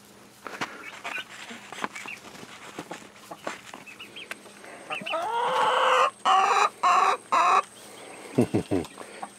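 Chickens and a rooster cluck and squawk near a farmyard feeding of cantaloupe seeds, pulp and rinds, with a run of loud rhythmic calls mid-clip and people talking quietly around them.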